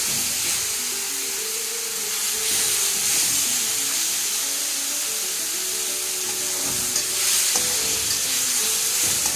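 Bitter gourd gojju mixture sizzles and hisses in a hot pan while a spoon stirs it, a continuous close frying crackle with soft scraping throughout and no talking.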